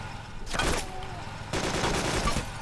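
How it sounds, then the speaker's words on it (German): Gunfire in DayZ while driving or moving with AI companions: two rough bursts of loud, crackling shots over a steady background rumble, no talk. "Jetzt werden wir auch noch beschossen hier"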